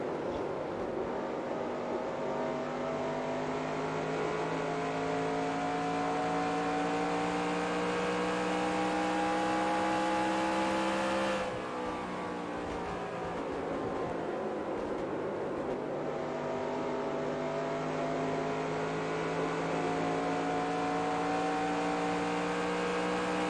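Stock car engines in NASCAR Racing 2003 hold a steady, high, layered drone throughout, with a brief dip and shift in tone midway through, loud and continuous with no talk.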